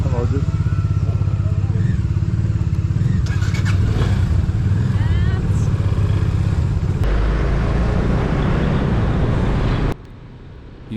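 Motorcycles ridden through ring road traffic in Kathmandu, including a Yamaha FZS, FZ25 and Dominar 250 heading for Mustang; a steady engine drone with wind rumble fills the clip, with a brief drop near the end.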